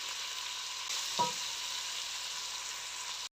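Pilaf ingredients, seasoned with black pepper, fry in a home kitchen pan with a soft steady sizzle and a single scrape of stirring midway, quiet and alone.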